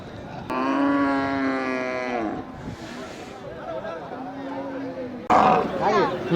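A native-breed bull at a cattle market gives long, loud harmonic bellows, with a second call later, while people talk nearby.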